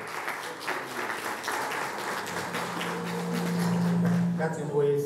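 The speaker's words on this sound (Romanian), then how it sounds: "Haideți să-l și aplaudă," An audience applauds at the Alecsandriada cultural gathering in Onești, a broad rustle of many hands that rises toward the end, mixed with talk and a held tone.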